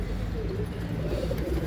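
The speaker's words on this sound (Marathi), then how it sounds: "बघूया आता आपण कबूतर." Pigeons cooing inside a breeding loft, soft low murmuring coos blended into a steady busy room noise, with people talking over them.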